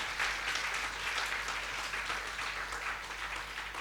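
Steady, dense applause from an audience at a Hindi comedy poetry gathering, a continuous wash of many clapping hands at moderate level with no voices on top.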